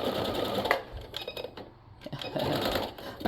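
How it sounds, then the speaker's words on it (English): Domestic sewing machine stitching forward and then in reverse on long dress fabric, a close, steady mechanical whir in two bursts separated by a short pause. "I just stitched it forward, stitched it backward just so that it can hold it down."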